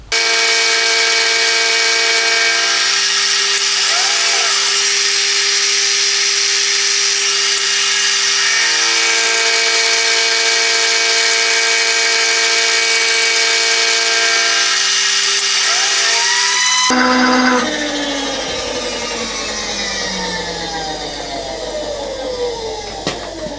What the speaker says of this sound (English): Okay, I'll flip it over and machine the other side.